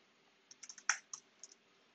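Keys clack on a computer keyboard in a quiet room, a short irregular burst of about eight crisp taps with one louder stroke, close and alone.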